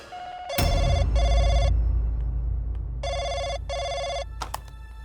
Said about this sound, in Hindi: फोन आया मोनिका को